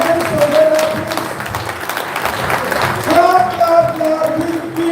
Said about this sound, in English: Put your hands together, please.